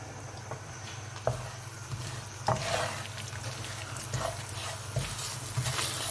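Semolina roasting over a low flame in about half a cup of hot oil, a soft continuous sizzle with occasional scraping and stirring knocks from a spoon, fairly quiet and close.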